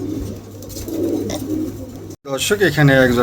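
A pair of pigeons coo with low, soft rolling calls, while someone talks over them, his voice loudest near the end.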